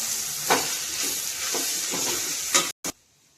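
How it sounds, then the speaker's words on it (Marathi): Masala with coriander leaves fries with a loud continuous sizzle for Maharashtrian masale bhat, broken by a few spoon-against-pan stirring knocks before the sound cuts off abruptly. "तुम्ही बघू शकता आपला मसाला छान फ्राय झालेला आहे"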